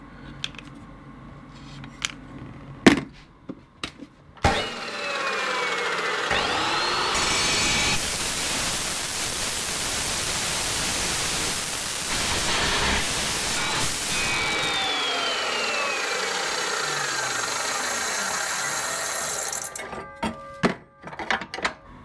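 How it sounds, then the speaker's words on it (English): A chop saw cuts metal bracket stock for gullwing windows on a Jeep Cherokee XJ: a loud, sustained, harsh screeching roar lasting about fifteen seconds, with spin-up and wind-down whines and scattered clanks before and after. "Just going to put that on the chop saw and cut out 2 of those."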